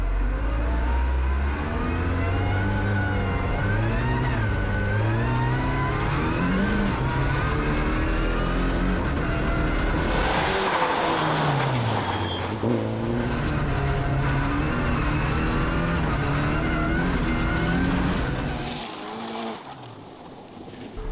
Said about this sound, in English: it's got like a miss, like an engine misfire